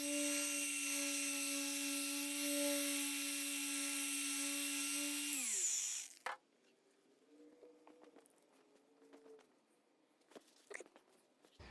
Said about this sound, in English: So now I'm going to do my paint correction process